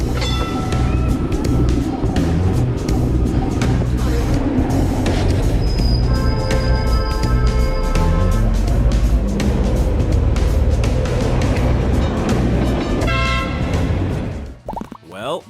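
A tram drives through a densely populated city with a continuous low rumble of wheels and motor, rattling and clunking knocks, and bell-like or horn tones sounding in the middle, loud and close, cutting off abruptly at the end.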